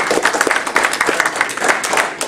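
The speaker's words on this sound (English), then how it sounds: "Ginny, we're going to applaud you right now." A historical society audience applauds a woman named Ginny, a close, loud burst of many hands clapping in quick uneven rhythm that stays steady for the whole stretch.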